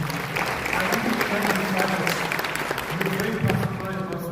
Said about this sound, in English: Can we please put a round of applause for him?